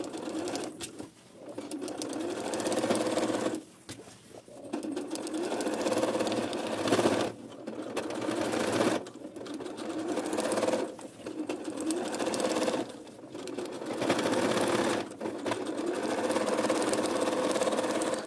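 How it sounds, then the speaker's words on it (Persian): A sewing machine stitches a fabric handle onto the body of a cooking pot bag, whirring in steady bursts of a second or two, separated by short pauses as the fabric is turned, close and with no talking. "ببینید دسته رو به بدنه دوخت زدم"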